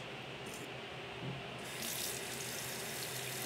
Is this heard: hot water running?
yes